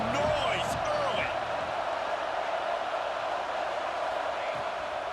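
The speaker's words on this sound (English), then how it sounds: "This crowd bringing the energy and noise early." Stadium crowd at a Florida versus Tennessee college football game roars steadily and loud throughout, with a commentator talking over the noise.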